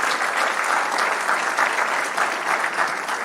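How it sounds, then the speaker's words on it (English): Audience at an 8th grade graduation ceremony applauding, a steady dense wash of clapping from a large crowd filling the whole stretch with no talk over it. "Can you give him a hand clap today?"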